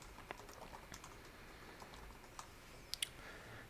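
Typing text on a computer keyboard while editing in Premiere Pro, quiet scattered key taps with a couple of sharper clicks near the end, faint and close.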